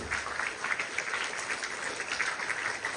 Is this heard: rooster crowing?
no